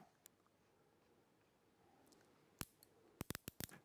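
A micrometer's ratchet clicks as it closes on a coin: small, sharp clicks, a single one, then a quick cluster near the end, close and quiet against a faint background hiss.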